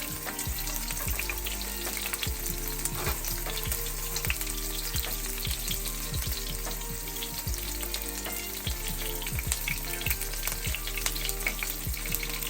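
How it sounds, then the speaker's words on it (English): Steady sizzling of onion and garlic frying in a pan, with soft repeated taps and stirring noises, close and continuous. "Here I'm frying some onion and garlic."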